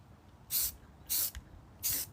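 Three short bursts of spray paint hiss out in quick succession as spice jar lids are coated at their edges, each spurt about a fifth of a second, close and crisp against a quiet room.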